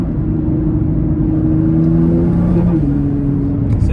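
A Nissan R35 GTR engine drones under load from inside the car, a steady low rumble with a rising harmonic tone as it accelerates, with a faint voice over it.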